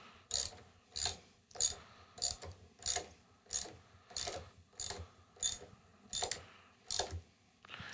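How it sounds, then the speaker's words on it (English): A wrench ratchets as bolts are tightened on a Redding T7 reloading press, about a dozen evenly spaced, crisp clicking bursts close by, each fading before the next. "Just tighten it up until your press has the feel that you want it to have."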